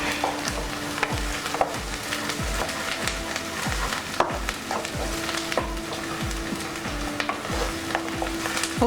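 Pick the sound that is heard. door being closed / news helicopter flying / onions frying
onions frying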